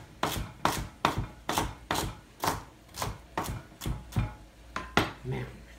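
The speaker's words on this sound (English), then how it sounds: "Now the same with our celery. I'm going to make some celery strips." Knife chopping celery into strips on a cutting board in a home kitchen: about a dozen crisp, evenly spaced chops at a brisk, steady rhythm, close and distinct.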